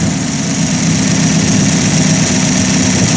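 A Buick Roadmaster engine running close under the hood, throttle worked through its linkage and dash pot; a steady, loud mechanical drone with no clear rev changes and no speech.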